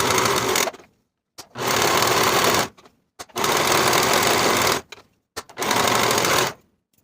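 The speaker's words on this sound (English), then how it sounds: "Edge stitch along that inner folded edge." A sewing machine edge stitches a plaid wool jacket pocket in four sustained runs of rapid, close mechanical clatter, separated by short silent pauses.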